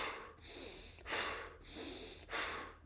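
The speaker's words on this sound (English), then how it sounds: "It's called bellow breathing." Bellow breathing, in through the nose and out through the mouth: rapid, forceful rhythmic breaths pumping in steady cycles, close and loud, with no talking.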